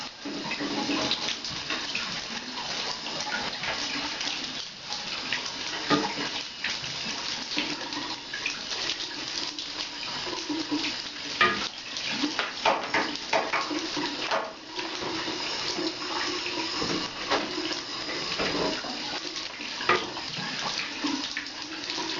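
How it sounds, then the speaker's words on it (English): A metal detector search coil washed in water, continuous running-tap splashing and sloshing like a filling tub, steady and close for a long stretch without speech. "this is no problem putting it in water"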